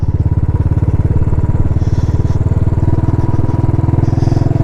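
A Royal Enfield Classic 500 single-cylinder motorcycle putting along slowly, a steady loud thumping engine beat with an even, rapid rhythm, close up and continuous throughout.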